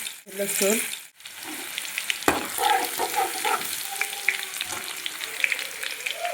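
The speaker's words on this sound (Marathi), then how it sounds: "आता मी ह्याच्यामध्ये टाकणार आहे तेल, लसूण" Garlic sizzles and fries in hot oil in a pan as the base for a dry toor dal stir-fry, with a steady crackle, some stirring and a few soft clinks, close and alone.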